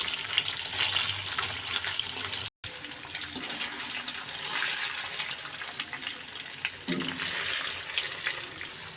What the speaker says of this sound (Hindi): हमने जब मटन ऐड किया है अब इसको हमने हाई हीट पर फ्राई करना है 5 to 10 मिनट्स के लिए